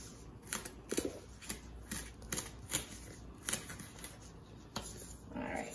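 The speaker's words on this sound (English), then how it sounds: "Now you can put your scallion in whole, or you could chop it up. I am going to cut it up." Knife cutting through a scallion on a cutting board, a faint series of irregular crisp chops and taps, quiet and close, with no one speaking.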